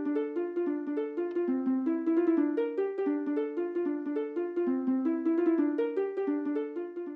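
A melody played on Minecraft note blocks triggered by pressure plates, a bright plucked, bell-like tune of quick repeating notes with a steady bouncing rhythm, loud and continuous with no talking.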